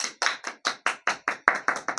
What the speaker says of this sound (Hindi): ताली भी बजाइए तो थोड़ा ठीक से बजाइए